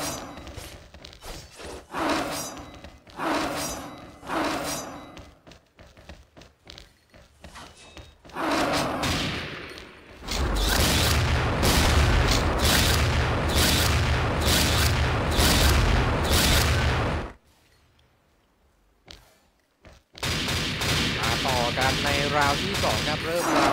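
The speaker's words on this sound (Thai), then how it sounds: "มาไล่แบงกำแพงต่อครับยิงกำแพงเล่นนะ" Rapid bursts of gunfire tear through walls in an esports mobile shooter grand final between One Last Time and Vivaroar, a dense, loud barrage of booming shots lasting several seconds, with a commentator's voice heard before and around it.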